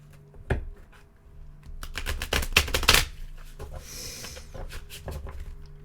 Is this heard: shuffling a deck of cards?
yes